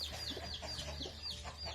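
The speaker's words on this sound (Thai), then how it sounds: "เนี่ยแม่ไก่ขึ้นไปโกกอีกแล้วครับ" A hen on a farm raising crossbred chickens clucks repeatedly in short, rhythmic bursts, close and clear over a steady low farmyard hum.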